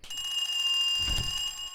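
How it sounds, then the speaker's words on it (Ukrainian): An alarm clock set in the game Baldi's Basics rings with a steady, shrill electronic tone, close and continuous, with a brief low thump partway through. "І ставимо балді будильник."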